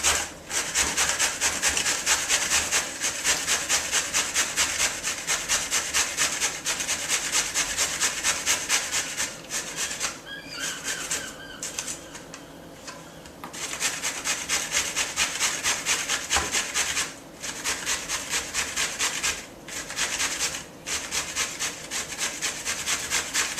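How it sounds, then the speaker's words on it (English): A courgette is grated by hand against a grater in steady, fast back-and-forth rasping strokes, continuous and close, with a couple of brief pauses, alone without talk. "we've got one courgette which we're going to grate, and I find it easier just to cut the courgette in half"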